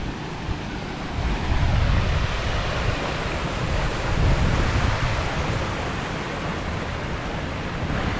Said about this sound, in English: There's a beautiful fountain.